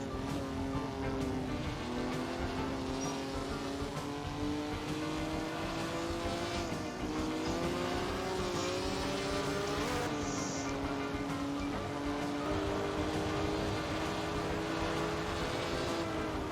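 Engines of 1955 Formula 1 Maserati and Mercedes cars race at Spa in Assetto Corsa, a continuous loud multi-engine drone with pitch rising and falling through gear changes, no talk over it.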